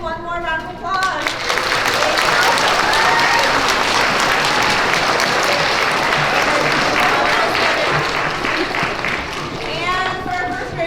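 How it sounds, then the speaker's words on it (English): Audience of young schoolchildren applauding at a Pre-K to 3rd grade character education assembly, a dense sustained burst of clapping lasting several seconds, loud and close, with a voice speaking briefly at the start and end. "let's give them one more round of applause."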